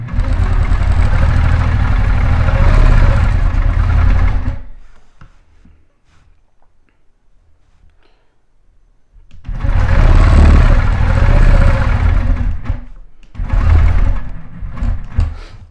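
A sewing machine stitching ten stitches per inch with silver thread at a steady cruise speed, running loud and close in two long bursts and one short one, separated by pauses while a ruler is moved.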